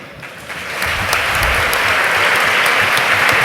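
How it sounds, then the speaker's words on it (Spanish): Audience applause at the end of a talk on the human factor in artificial intelligence, a dense sustained clapping that swells after the first second and stays loud and even, with no voices. "Perdonad que os interrumpa los aplausos"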